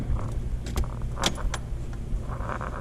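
Keys jangle in bursts of bright metallic clinks near a car, several quick shakes over a low background hum, with no talking.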